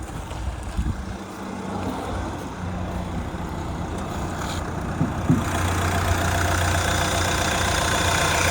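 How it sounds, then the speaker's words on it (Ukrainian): A Renault Scenic 3 with a 1.6 diesel engine idles close by with a steady, even rumble that gets a little louder and fuller partway through. "Зараз вам покажу, як робить моторчик, машина не димить."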